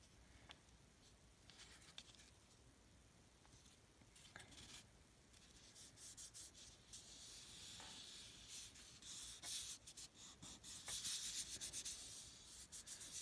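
Paper being rubbed and smoothed down by hand while collaging patchwork paper tags, a steady close scratchy rubbing that grows louder and busier toward the end, with no talk.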